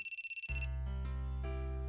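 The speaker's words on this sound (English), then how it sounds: "I heard my phone buzzing" A mobile phone rings early in the morning, a rapid series of short electronic beeps giving way to a sustained synthesized ringtone melody with steady low tones, clear and alone.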